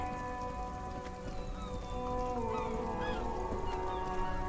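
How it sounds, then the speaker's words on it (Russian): Steady rain patters and hisses in the Disco Elysium video game, a dense, even wash under sustained music tones with faint gliding calls, moderately quiet and continuous. "Stuck in the rain in a traffic jam, man."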